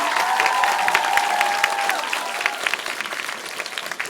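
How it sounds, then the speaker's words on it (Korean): An audience applauds after a stage performance at a dental hygiene students' oath ceremony, dense clapping with some cheering and a sustained tone early on, gradually thinning. "정말 감동적인 시간 무대에서 큰 박수 다시 한번"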